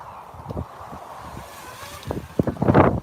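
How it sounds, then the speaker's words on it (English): Wind buffets the microphone with a steady low rumble, swelling into louder gusts near the end. "It's a little bit windy"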